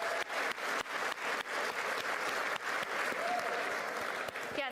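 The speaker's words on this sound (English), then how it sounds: "please, for real, give yourself a round of applause for being here tonight." An awards-show audience claps in sustained, dense applause, loud and steady throughout.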